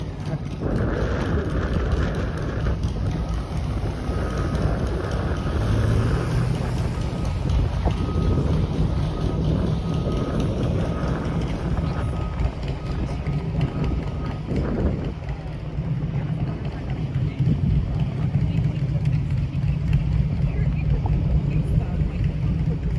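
Steady, loud wind buffeting the microphone outdoors in midtown Toronto on a warm day, a continuous low roar with gusts throughout.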